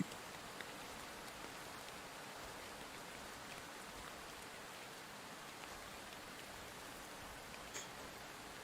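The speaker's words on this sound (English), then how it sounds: "I suppose it is just a demo because it's raining in here" Rain falls indoors in a video game demo, a soft, even patter of drops that stays faint and constant throughout, with occasional slightly sharper drips.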